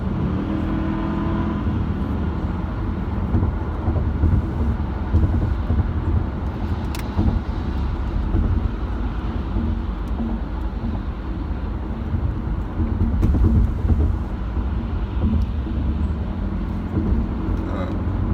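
Truck engine droning steadily while driving, a continuous low rumble with road noise throughout, and someone talking over it.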